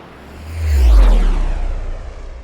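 An airplane roars past on takeoff, a single deep, rushing swell that builds to a loud peak near the middle and then fades away slowly, with no voices.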